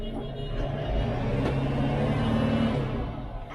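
A heavy Zetor tractor engine rumbles steadily and swells slightly as it revs, heard from inside the cab, with no voices.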